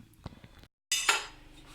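Mutton korma served out of a clay handi, with short metallic clinks and scrapes of a spoon against the pot and dish, close and sparse, broken by a brief silence.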